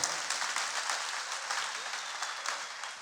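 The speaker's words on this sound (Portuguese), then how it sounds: "Uma salva de palmas ao Senhor, meu irmão." A church congregation claps during a bishop's sermon, a fairly soft but steady patter of many hands in continuous applause from start to finish.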